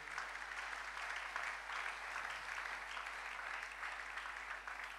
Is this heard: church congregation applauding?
yes